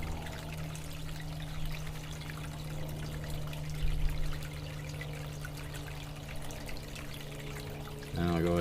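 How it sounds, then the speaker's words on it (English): Water runs and splashes steadily for several seconds over a low mechanical hum, with a brief louder surge partway through and a change near the end. "I'll go ahead and shut the water off here"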